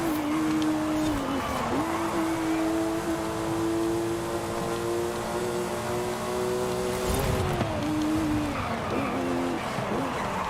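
Race car in Forza Horizon 5 running laps, a loud, close engine whine that holds steady and then dips as the driver brakes before climbing again through the gears, with a faint voice underneath.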